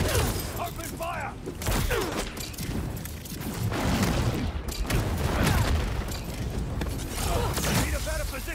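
Gunfire from Marvel's Spider-Man 2 on PS5 at a bonfire hideout, with bursts of shots, booms, crashes and mechanical clanks piling up loudly over several seconds, mixed with game voices and effects.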